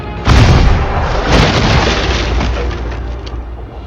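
Cannon fire from the Shogun TV series: a loud, close booming blast with a deep low-end thump, followed by a second boom and a long rumbling decay, with no talk over it.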